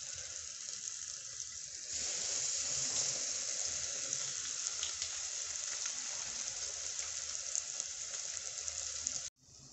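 Food sizzles in hot oil in a pot, a steady close hiss that swells after about two seconds and stops abruptly near the end.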